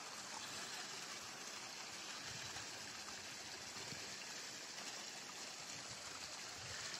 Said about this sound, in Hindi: पहाड़ों का झरना